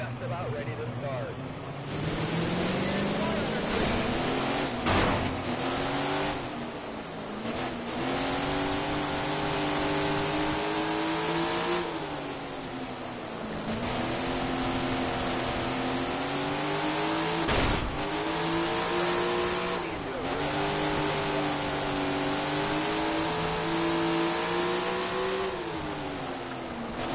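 Sprint race cars at Mcmurchy, a steady loud engine drone with repeated rising revs and brief dips, while people talk over the engines throughout.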